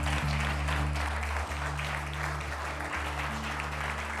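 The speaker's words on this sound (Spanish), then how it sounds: "¿Qué te parece si le damos más fuerte ese aplauso a nuestro Dios?" A church congregation at a Spanish-language service applauds in a continuous, full wash of clapping, steady and moderately loud throughout over a low sustained hum.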